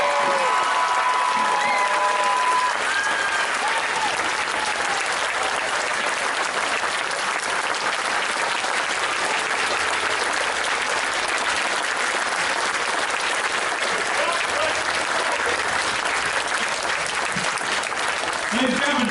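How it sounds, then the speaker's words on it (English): Sustained applause from a convention panel audience honoring the late Adam West, a dense, steady wash of many hands clapping at close range for the whole stretch, with some crowd noise mixed in. "let's hear a big round of applause for everything"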